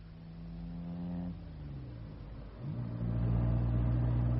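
A car engine idles with a steady hum, dips as the driver shifts, then revs up and pulls away with rising engine noise in a radio drama scene where a hotel car collects a passenger.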